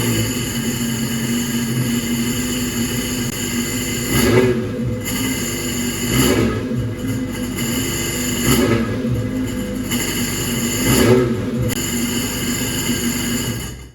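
A Sea-Doo RXDI jet ski with a Rotax 951 engine idles and runs steadily after a new fuel pump, a low droning hum that swells in periodic revs, close and loud.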